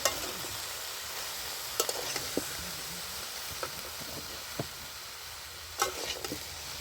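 Mixed winter vegetables with turmeric and green chilli are stirred in a pan, a soft continuous sizzle punctuated by occasional light scrapes and taps of the spoon, close and fairly quiet.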